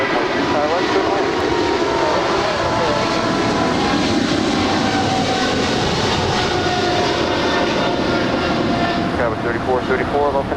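A China Southern Cargo Boeing 777 freighter departs LAX, its jet engines roaring loud and steady throughout, with a voice talking over the noise.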